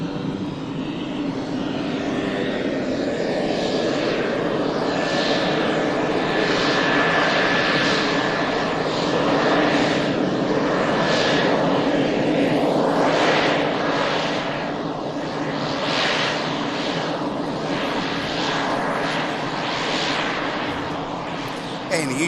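Turboprop aircraft at Manchester Airport, a loud sustained engine drone with a pulsing whine that swells and fades over about twenty seconds, with a voice talking over it.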